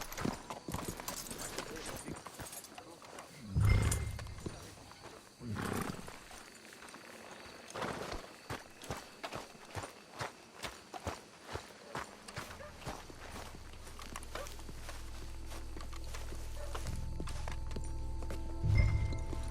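Horse hooves clip-clop steadily in Red Dead Redemption 2, a string of close, rhythmic hoofbeats on the ground, with voices talking over parts of the sequence.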